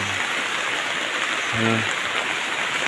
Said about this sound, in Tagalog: Dahil sa may hangin-hangin din, tapos bigat ng ulan.